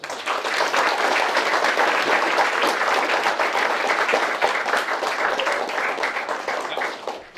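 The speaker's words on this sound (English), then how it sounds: "Let's give him a big round of applause." Loud, continuous applause from an audience at a real estate association meeting, dense clapping holding steady for several seconds before tapering off at the end.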